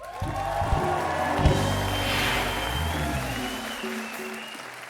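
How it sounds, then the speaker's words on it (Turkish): Studio audience applause on a Turkish television talk show, a broad steady wash of clapping and some cheering, with music and a voice sounding through it before it fades. "Her şeyi alkışlamamayı öğrenin"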